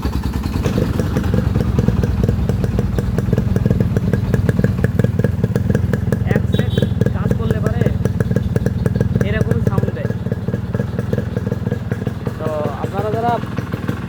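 A modified Yamaha RX 100 motorcycle with an aftermarket exhaust idles close by with a rapid, throbbing two-stroke putter that holds steady throughout, and a person speaks briefly over it.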